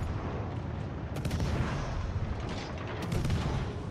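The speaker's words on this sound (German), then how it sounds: "Lol, ich schieße." Warship guns firing in World of Warships: a couple of sharp, distant-sounding shots pop out over a steady, rumbling game background of sea and engine noise.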